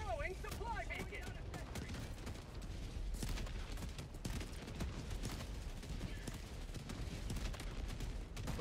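A deployed sentry gun fires in a shooter game, rapid bursts of gunfire rattling continuously amid other battle noise, fairly quiet overall.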